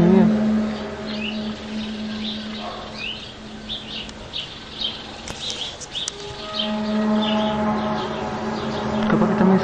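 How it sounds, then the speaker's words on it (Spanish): Birds chirp outdoors in Argentina, with scattered high tweets over a steady low droning hum and faint background noise. "Capaz que también se están escuchando el ruido de los pájaros y todo eso"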